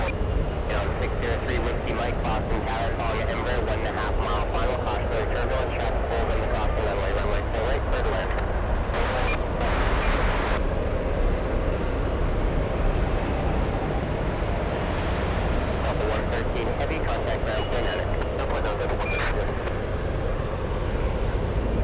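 An SAS airliner takes off at Boston Logan airport, its engines producing a loud, sustained roar that fills the whole stretch with broadband noise; no voices are heard.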